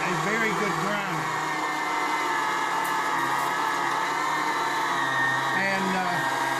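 Electric meat grinder, a compact Hobart-style machine, running while country sausage is made: a steady loud motor whir with a slight wavering pitch throughout, no pauses.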